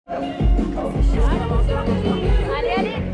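Spectators cheer and clap for a runner at the 100 km de Millau ultramarathon, close and lively, with voices mixed into the hubbub throughout.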